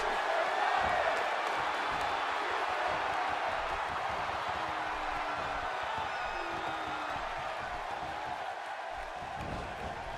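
Steady roar of an arena crowd cheering in the WWE 2K16 wrestling game, set in Pittsburgh for a match between The Rock and Braun Strowman, a continuous dense wash of noise holding level throughout with no clear talk.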